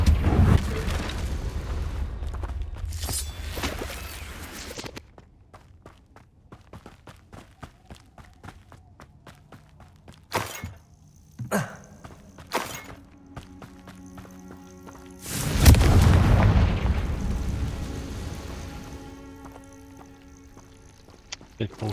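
Confringo fire-blast spell explosions in the Hogwarts Legacy video game, heard as sharp booming bursts around 10–13 seconds and a big roaring blast near 15.5 seconds, mixed with combat effects and other game sounds.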